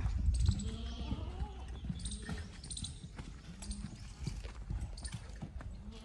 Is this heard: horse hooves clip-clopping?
yes